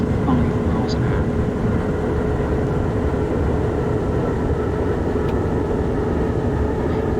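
A Class 67 diesel locomotive pulling Mark 3 coaches between Newport and Abergavenny in the OpenBVE train simulator rumbles steadily as it approaches a platform, a constant dense engine and rolling drone with no breaks.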